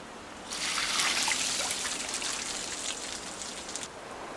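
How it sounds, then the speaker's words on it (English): Water trickles and patters steadily over specially designed wooden racks as ice farmers douse them to grow clean ice in the cold, a soft continuous splashing spray that rises and then holds at moderate level. "ice farmers repeatedly douse specially designed wood racks with water"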